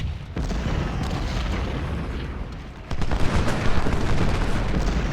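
Infantry gunfire in Ultimate General: Civil War at Bull Run, a dense rolling crackle of rifle shots and low booms that thickens into a louder continuous fusillade midway, steady and mid-distance with no voices.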